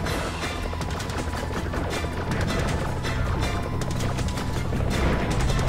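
Gunfire from the video game Viper rattles out as rapid, tapped bursts of sharp shots. The shots are loud and continuous for several seconds, with almost no speech.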